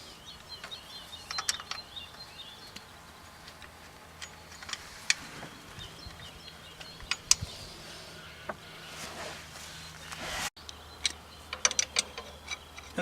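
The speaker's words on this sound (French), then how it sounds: "on finit de serrer les deux boulons, de 18 bien sûr" Two 18 mm bolts are tightened on the starter of a TEA20 tractor, giving sparse, crisp ratchet clicks in short bursts, close by, over a quiet background.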